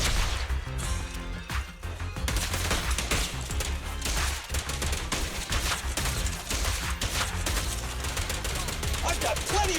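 Rapid bursts of gunfire erupt in the video game Zenless Zone Zero, dense and loud over a constant game soundscape, with sharp impacts and crashes mixed in.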